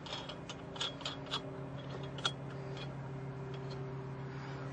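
Lug nuts are spun by hand onto a car wheel during a tire change, giving faint metallic clicks and scrapes in quick bursts over a steady low background hum.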